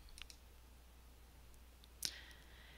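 A single sharp mouse click lands near the end, clicking the knit button in an R Markdown editor, alone against a quiet room hum with a few faint ticks earlier.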